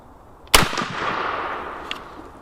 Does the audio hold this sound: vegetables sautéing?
no